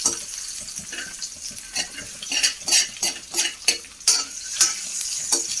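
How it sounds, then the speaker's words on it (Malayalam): Boiled eggs fried and stirred in a pan, with a steady sizzle broken by repeated scraping, clinking stirs that come in uneven bursts, close and fairly loud, and no voices. "ജസ്റ്റ് ഒന്ന് ഫ്രൈ ആക്കി എടുക്കട്ടെ"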